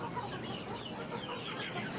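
Backyard free-range village hens clucking and murmuring steadily in a simple breeder coop, a dense continuous chatter of several birds at close range with no talking.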